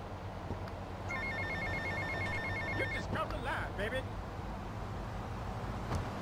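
A phone rings in the video game GTA Vice City, a repeated electronic bell trill lasting about two seconds, faint under road traffic and engine noise, with a player talking over it.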